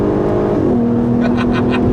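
Engine of a 2008 Volkswagen R32 revving loudly from close by, its pitch swinging down then holding a steady drone, with brief bursts of higher noise near the end.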